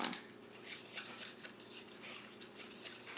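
Baby food is poured and stirred in a small dish, giving soft, close scraping and clinking of a spoon against the dish with faint wet sloshing, and no talk over it.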